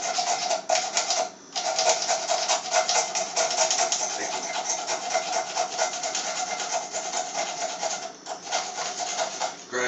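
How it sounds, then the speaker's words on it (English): A blade scrapes shavings off a magnesium fire-starter block, a continuous rasping grind up close with rapid repeated strokes and two brief pauses, no voices. "grind you off some magnesium on there"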